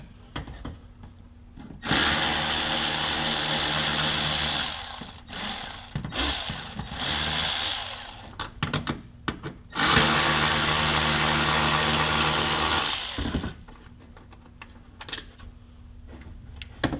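A power tool spins 7mm bolts out from inside the fender of a Chevy ZR2 diesel, making two long, steady whirring runs with a choppy stretch between them, close up and with no talking.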